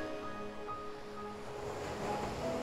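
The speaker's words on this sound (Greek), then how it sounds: "Να ακούς τα κύματα να σκάνε στην ακτή." Waves breaking on a shore, a continuous soft wash of surf with gentle swells, distant and fairly quiet with no voices.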